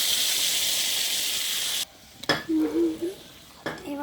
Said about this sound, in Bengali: এবার এতে গরম জল ঢেলে দেবো